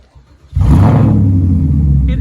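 A Porsche fitted with a straight-pipe exhaust fires up after quiet voices and settles into a loud, steady, deep idle that carries to the end.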